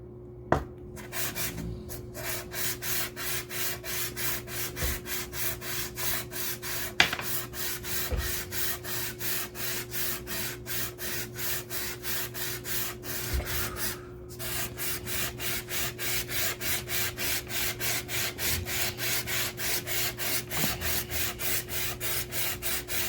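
Optimus computer water block being lapped by hand on abrasive, a steady rhythmic back-and-forth rubbing and scraping that repeats quickly and evenly throughout, close and moderately loud, with a couple of brief knocks and pauses.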